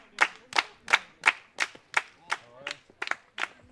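Crowd clapping in steady rhythm at a Baseball Bundesliga game between the Mannheim Tornados and Haar Disciples, about ten sharp, evenly spaced claps, moderately close and fairly loud, with faint background voices.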